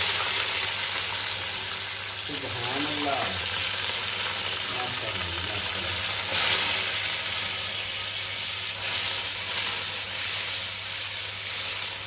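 Water goes into a hot pan of lightly browned onions while making matar pulao, setting off a loud, continuous sizzle and hiss with some stirring. A person speaks briefly over the frying.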